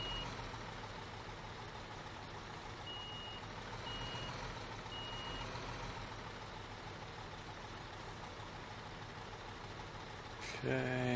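A truck backing a steel mill trailer in Construction Simulator 2015 gives a few faint, evenly spaced reversing beeps over a low, steady engine rumble.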